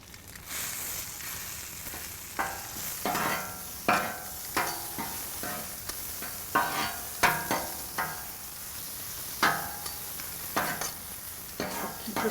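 American cheese being stirred into a cheesy sauce on a Blackstone griddle: soft, steady sizzling under repeated scraping and stirring strokes, fairly quiet and close, with no talking.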